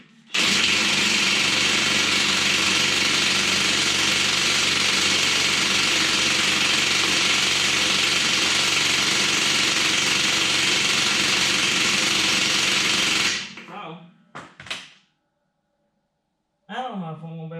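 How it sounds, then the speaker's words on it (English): Battery impact wrench working on left-hand lug nuts of an International 4900 truck's rear hub, a loud continuous whirring and hammering run for about thirteen seconds, then a few short bursts and a restart near the end. "Pays to check the setting on the battery impact."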